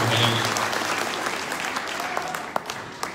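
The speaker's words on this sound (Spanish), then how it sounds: "Un aplauso por favor" An audience at a gathering with electricity users in Atenango del Valle applauds in a dense, steady wash of clapping, with a voice faintly audible under it.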